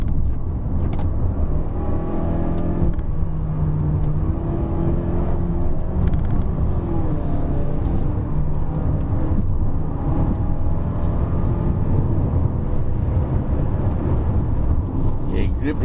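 2019 Mazda CX-5 with a 2.5-litre turbo engine and all-wheel drive climbs the Genting hill road, a constant loud engine and road rumble heard from inside the cabin with a person talking over it.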